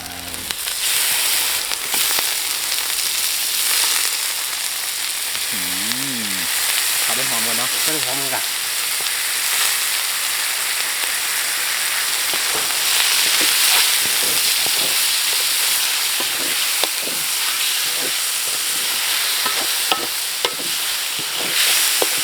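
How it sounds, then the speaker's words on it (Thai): Pork eggs and curry being stir-fried in a pan, giving a continuous loud sizzle and hiss with scraping stir strokes, while someone talks briefly over the cooking. "ผัดให้ตึงๆเนาะ แล้วก็ใส่น้ำเนาะ"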